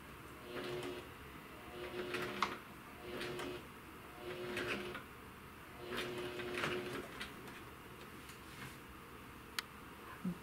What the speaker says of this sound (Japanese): ぐるっと縫っていきますので、